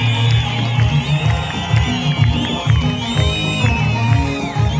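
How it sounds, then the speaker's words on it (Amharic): A church congregation claps and ululates together, a dense, loud wash of rhythmic clapping with high trilling voices rising throughout. "ለኢየሱስ እስቲ እልልታችሁ ጭብጨባችሁ ይገባዋል።"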